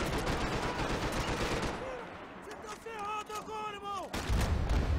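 Gunfire in Max Payne 3, set in a civil-war style firefight: dense bursts of shots through the first seconds, then a quieter stretch where tonal game sounds rise before another loud blast at the end.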